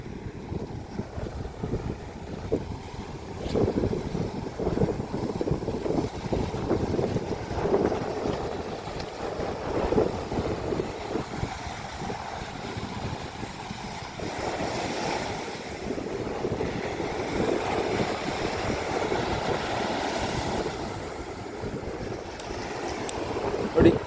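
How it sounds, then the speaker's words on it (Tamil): Sea waves roll in and break on Thondaimanaru beach in a continuous broadband wash, with surges swelling and fading under gusty wind buffeting the microphone and no speech. "இங்கே இந்த கடல் தண்ணி அலை அடிச்சு அடிச்சு இந்த ஆத்துக்கு போகுது"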